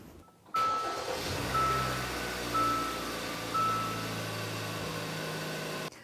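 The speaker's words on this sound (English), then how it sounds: "Now we can go start the car." A 2013-2018 Hyundai Santa Fe engine cranks and catches, then settles into a steady idle close by, while a repeating dashboard warning chime beeps at regular intervals over the hum.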